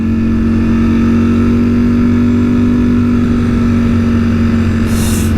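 A minivan driving up close to a motorcycle on the road, its engine droning steadily under loud, constant wind rush and the motorcycle's own hum, with no voices.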